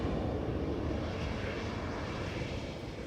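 A Turkish airliner going around at full throttle at Amsterdam Schiphol Airport, a loud, continuous broadband engine roar that holds steady and fades only slightly near the end, with no voices.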